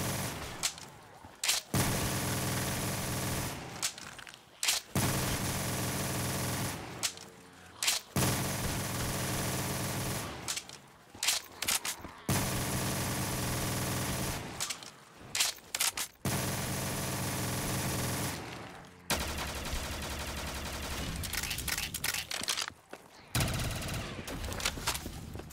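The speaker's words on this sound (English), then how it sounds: "Guns are extremely loud." Video game gunfire from Black Ops 3 Custom Zombies comes in loud, sustained automatic bursts several seconds long, split by short gaps and near-silent pauses, harsh and close.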